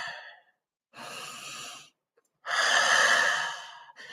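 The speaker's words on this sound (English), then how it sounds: "just breathing out all the nerves" Slow, audible exhalations before public speaking to settle nerves: two long airy breaths out, close and fairly loud, the second stronger, separated by silence.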